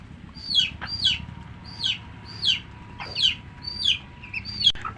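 A hen clucks in a regular series of about eight sharp calls while being hand-fed at home, close and clear over a low background rumble.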